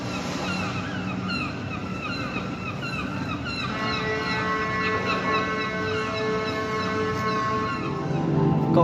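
Geese honk repeatedly at a light installation depicting flying birds at the Canary Wharf Winter Lights, with overlapping calls over a steady outdoor wash of noise that swells slightly toward the end, and no talk.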